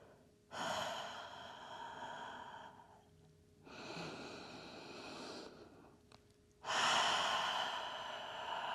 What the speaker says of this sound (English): And with the exhale, let it all out.